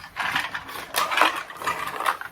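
A package holding a Blade Saver thread cutter being opened by hand: crinkly plastic and cardboard rustling in several short bursts close up, with no talk.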